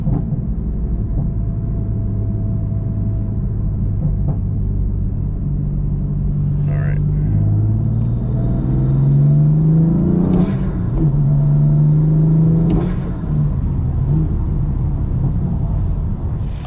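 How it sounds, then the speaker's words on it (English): A BMW M4 engine with a CTS turbo intake rumbles and revs, with rising pitch sweeps as it climbs through gear shifts and brief intake bursts between them, loud and close. "The shift from third to fourth, I think, is probably the loudest from the intakes themselves"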